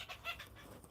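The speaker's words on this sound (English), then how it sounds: "Sounds like blue jays." Blue jays calling outdoors, picked up indoors from a distance; a couple of short, faint bird calls sit over quiet room noise and are heard on their own.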